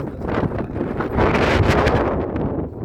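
Strong sea wind buffets the microphone in loud, gusty rushes, a broad roar rising and falling over a few seconds along a northern coast where sailboats are out on the water.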